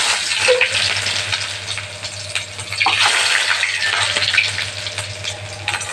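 Cumin seeds and chopped garlic frying in hot oil in a vegetable curry pan, a steady close sizzle with occasional stirring clatter throughout, no talking.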